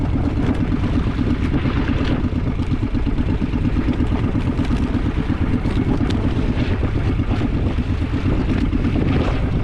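Strong wind buffets the microphone in a constant rumbling roar, with a boat engine's steady throb underneath.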